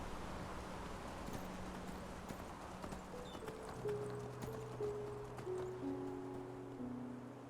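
Horse hooves clip-clop at a steady rhythm on a road in the video game Enderal, fairly faint under a low background hum and music-like tones.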